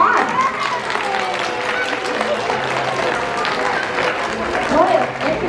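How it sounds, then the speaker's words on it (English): Audience clapping at a sea lion show at Gulf World's Pinniped Park, a lively round of applause filling the stands for several seconds, with a few voices mixed in. "You guys can give them a nice round of applause."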